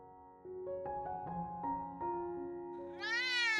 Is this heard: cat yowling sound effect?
yes